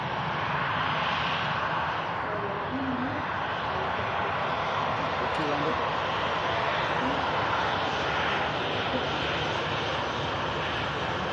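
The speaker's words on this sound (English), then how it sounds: "Air France A220 just starting its roll as this Ryanair taxis past us for Billund." An Air France A220 airliner begins its takeoff roll at Manchester Airport, a steady distant engine roar that holds level throughout, with a Ryanair jet taxiing nearby adding to the broad rumble.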